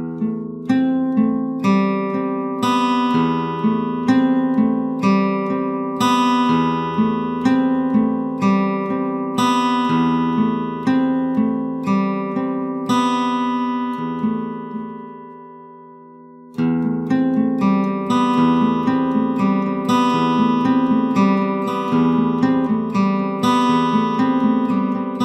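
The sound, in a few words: guitar odd-time picking pattern with open strings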